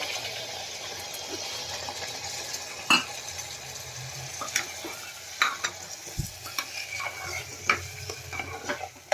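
Soft frying sizzle as water is added to a pan of stuffed aubergine and potato curry, with stirring and occasional clinks of a utensil against a pot, close by, no talking.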